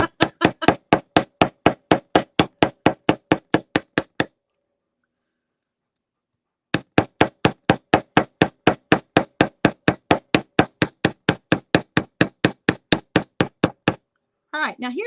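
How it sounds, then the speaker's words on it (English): Metal jewelry wire loops are flattened by a hammer in two runs of rapid, evenly spaced sharp taps, loud and close, separated by a few seconds of silence. "I'm going to hammer the whole entire thing, meaning I'm going to do the loops as well."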